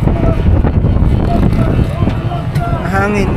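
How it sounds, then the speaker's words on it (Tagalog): Steady wind buffets the microphone outdoors in a low roar, while a person talks over it in the foreground. "It's so windy today."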